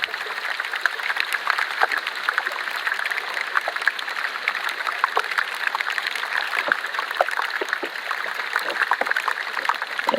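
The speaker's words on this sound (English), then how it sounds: "It was constantly cracking and popping." Dense, continuous crackling and fizzing with countless small pops scattered irregularly, as melting glacier ice releases bubbles in water, steady and fairly close throughout.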